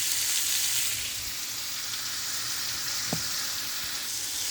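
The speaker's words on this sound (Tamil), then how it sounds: "எறா இந்தளவுக்கு வதங்கினா போதும்" Prawns sauté in a frying pan for a Tamil ivy gourd and prawn fry, giving a steady, close hiss of sizzling oil with a faint clink of stirring partway through, and no voices.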